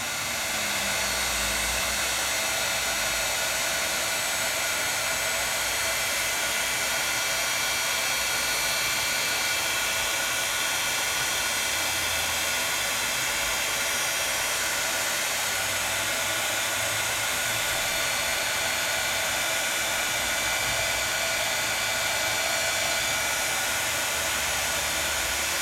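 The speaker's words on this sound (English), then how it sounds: "Heat set, because I am on, well, I'm on specialty paper and I'm using an embossing powder." A heat tool blows hot air steadily to heat-set embossing powder on specialty paper, giving a constant loud hiss that lasts throughout without a break.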